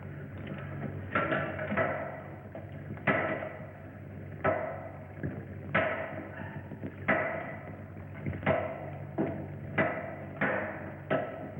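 Heavy hammer blows against a wall in a 1951 film scene, about a dozen sharp, ringing strikes at an uneven pace, loud and close, with no talking over them.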